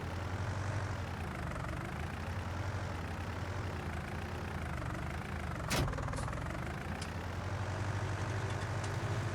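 A tractor engine idles in Farming Simulator 19, a steady low diesel rumble with an even drone throughout and a single brief click midway, no voices over it.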